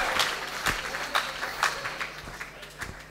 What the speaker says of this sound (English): We should give it a clap for them